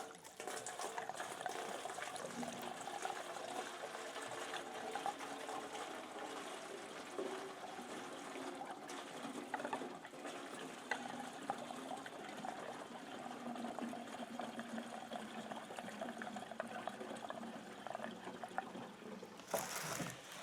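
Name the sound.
oil being poured into a container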